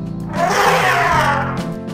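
A loud, drawn-out elephant trumpet blares for about a second over light background music, then fades.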